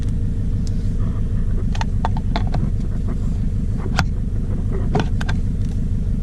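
A Scion FR-S engine idles after a spark plug change that cured a cylinder misfire, a steady low rumble close by with a few light clicks and taps over it, no talking.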